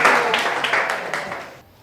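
An audience at an exam-preparation guidance session for 10th-board students claps together in a burst of dense, crackling applause that gradually fades out over about two seconds.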